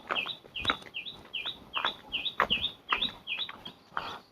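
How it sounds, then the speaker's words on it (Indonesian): Birds call outdoors in a village near Bogor in a steady series of short, bright chirps, roughly two per second, fairly close and clear over a faint background. "suara burung masih terdengar banyak di sini"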